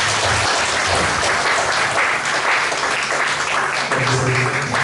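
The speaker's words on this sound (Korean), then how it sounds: "자리 한번 일어서시면 큰 박수로 환영하겠습니다." A church congregation claps to welcome visitors at a Korean thanksgiving worship service, a loud, sustained burst of many hands close by that carries on evenly with no speech.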